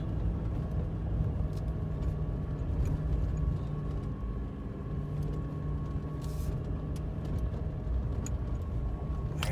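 A 2021 GMC 2500HD pickup with a 6.6-litre gas engine crawls offroad in two-wheel drive: a steady, loud engine drone and low rumble with a few faint knocks and rattles, no speech.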